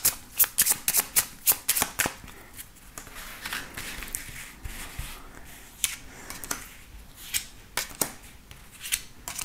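Tarot cards shuffled by hand for a nine-card reading: a quick run of sharp, close riffling snaps at first, then softer, continuous shuffling and sliding of the deck, with no talking.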